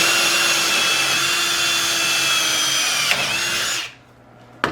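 A Ryobi power drill whines loudly as it bores an angled hole in steel, one sustained high-pitched run that cuts off abruptly near the end, followed by a brief click.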